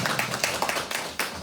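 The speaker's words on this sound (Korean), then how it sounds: "박수 한번 부탁드리겠습니다." Audience clapping at an English camp orientation for a US trip, a short burst of scattered hand claps filling the space, with faint voices mixed in.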